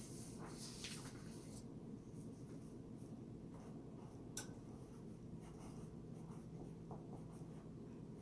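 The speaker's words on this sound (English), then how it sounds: "Now I want you to write those words on your clean copy for me." A pencil scratching out words on paper during a spelling lesson, soft continuous scribbling strokes heard faintly over a steady background hum.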